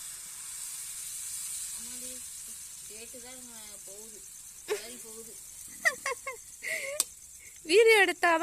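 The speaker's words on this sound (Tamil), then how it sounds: "அந்த ஊத்துறாங்க தோசை." A steady, soft sizzle of dosa batter on a hot griddle runs throughout, with a few voices talking over it.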